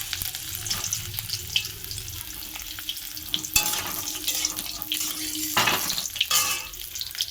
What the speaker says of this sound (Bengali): ফুলকপিটা ভাজা হোক লাল লাল করে।